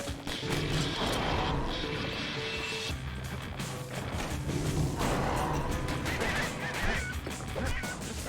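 Squawking bird creatures called peckers in the game Bastion, a continuous flurry of honking, quacking calls over busy game sound, steady and fairly loud throughout.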